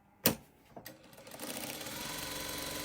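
Sewing machine stitching fabric pieces together in a straight line; a couple of sharp clicks at the start, then a rapid, steady mechanical whirring that builds and runs continuously.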